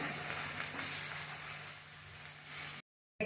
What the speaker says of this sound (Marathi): आता मिक्स करून घेऊया आणि छान एक साधारण सात आठ मिनिटं आपण परतून घेऊया